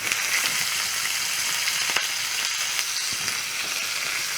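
Cumin seeds with dried red and fresh green chilies sizzle and fry in hot oil for ash gourd raita, a steady close crackle with a few faint stirring clicks.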